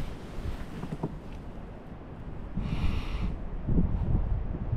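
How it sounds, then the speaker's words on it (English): Strong wind buffeting the microphone with a rumbling roar, gusting louder toward the end, with faint water or hiss in the background. "there really isn't anywhere to get away from this wind"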